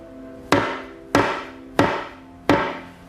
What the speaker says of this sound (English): So if I take this piece of wood and hit it with a hammer